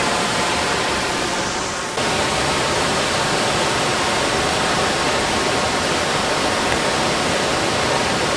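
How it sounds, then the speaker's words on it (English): Steady, loud roar of rushing water from a waterfall at Silver Dollar City theme park, dense and constant, heard up close, with a brief dip near the start. "you could walk behind that waterfall and see what life was like behind the waterfall"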